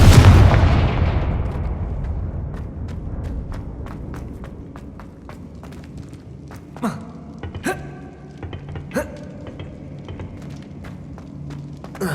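A fiery Confringo spell explosion in the Hogwarts Legacy video game: one loud, close blast that rumbles and fades over several seconds, followed by scattered sharp thuds and steps.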